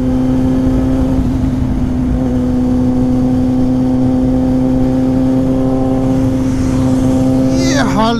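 Idling KTM Duke and Yamaha FZ motorcycles on a Sunday ride, with a steady loud engine drone and a constant hum close by, while a voice talks over it throughout.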